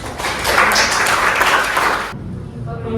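Applause in an Indonesian classroom, a burst of many hands clapping that cuts off abruptly after about two seconds, followed by quieter room sound.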